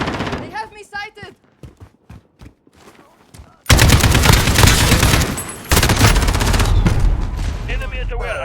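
Loud, sustained video game gunfire bursts out suddenly and rattles on in rapid volleys, dense and close, after a quieter stretch of scattered shots and game voice callouts.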